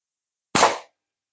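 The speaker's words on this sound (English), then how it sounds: "are really sending these plastic BBs. They're about a gram." A single sharp snap-and-thwack of a slingshot firing a heavy one-gram plastic BB at a target, a loud close burst that fades within a fraction of a second, surrounded by silence.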